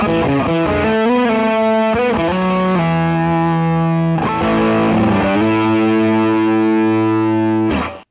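Electric guitar through a Cornerstone NERO fuzz pedal with every knob set at noon, playing sustained, thick distorted chords and notes that ring loud and close for about eight seconds, alone with no talking.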